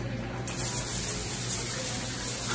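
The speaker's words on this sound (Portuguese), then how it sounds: "olha só a pancada da água, gente, que cai agora" Lorenzetti Advanced Turbo electric shower fitted with a pressurizer runs with a steady, strong rush of falling water, close and continuous with no talk.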